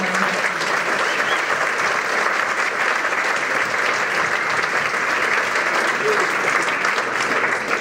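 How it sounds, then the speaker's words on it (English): Sustained audience applause at a world languages induction ceremony, a dense, steady wash of many hands clapping at even loudness throughout, with no speech over it. "And one last round of applause for all of them."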